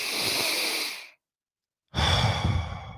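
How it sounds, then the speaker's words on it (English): A deep belly breath, with a long loud inhale, a short silent pause, and then a forceful sighing exhale, heard close up and alone. "I'm talking about really taking a breath"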